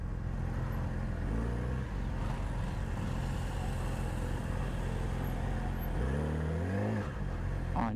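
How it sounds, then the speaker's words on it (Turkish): Morning rush-hour road traffic in Halkalı, Istanbul: a steady wash of car and truck engines passing close by, with a vehicle accelerating and revving near the end, continuous and fairly loud with no talking. "Yani baksana aşağıya doğru ne kadar trafik var."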